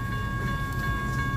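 BNSF trailer train led by warbonnet locomotive 4703 rolls through the Baker St crossing, a steady continuous rumble of rail cars with a faint sustained tonal ring above it, no distinct breaks.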